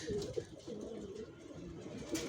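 Young adult racer pigeons coo faintly at a distance, low murmuring calls repeating steadily against quiet background noise.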